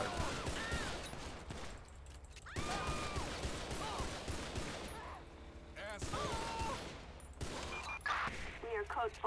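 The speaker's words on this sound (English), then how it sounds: "Shots fired." Gunfire in the video game GTA V with the LSPDFR police mod comes in a few sharp bursts separated by short gaps, loud and close, with voices talking briefly between the shots.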